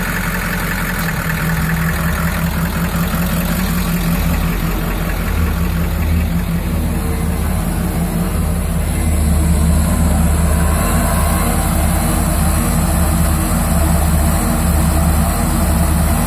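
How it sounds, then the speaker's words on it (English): Four hydraulic-driven alternators spin at idle on a bus, producing a steady, loud mechanical whir and hum with a constant high whine that holds unchanged throughout. "This right now is four alternators spinning at idle."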